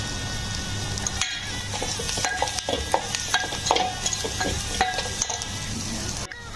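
Tomato and coriander stirred in a hot frying pan with ground spice paste, a steady loud sizzle broken by scraping strokes of the spoon, close up and continuous.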